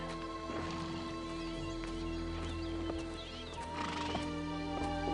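A horse whinnies loudly while hooves clip-clop steadily nearby, with a second neigh rising toward the end.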